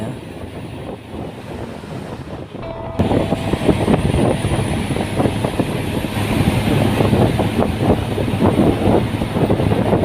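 A bus roars past at speed, a loud, steady rush of engine and road noise that swells after a quieter opening.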